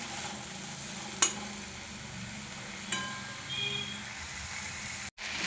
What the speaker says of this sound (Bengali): 2 মিনিটের মতো কষিয়ে নেব, যাতে করে হলুদের কাঁচা গন্ধটা চলে যায়। ঢাকা দেবো না, ঢাকা খোলা অবস্থায় কষিয়ে নেব।